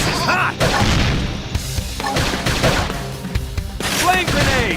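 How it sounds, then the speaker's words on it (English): Rapid gunfire in a Xenoblade Chronicles X battle, with bursts of shots, crashes and impacts over several seconds, loud and close, mixed with game effects and a voice in the background. "Now, topple him with some gunfire!"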